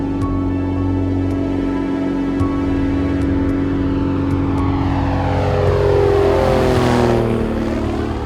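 A small propeller airplane takes off from the Witwater landing strip near Kalkrand, Namibia, its steady loud engine drone building as it climbs, with a sweeping pitch shift toward the end and no voices.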